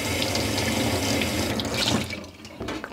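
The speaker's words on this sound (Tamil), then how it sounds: "இப்படியே கீழ்ப்பக்கத்துக்கு கொஞ்சம் தண்ணி திறந்து விடுவோம்" Water gushes from an opened tap whose handle is broken, a strong steady splashing flow that eases off and thins toward the end.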